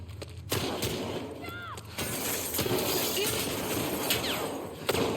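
Gunfire and shattering impacts from combat in The Last of Us Part II, a dense continuous barrage of shots and crashes with in-game voices over a steady noisy backdrop.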